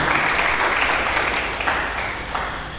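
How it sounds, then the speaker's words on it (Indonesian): A church congregation bursts into lively applause, loud, dense clapping with a few sharper claps standing out as it gradually fades. "Mari kita berikan tepuk tangan yang meriah bagi Yesus Tuhan."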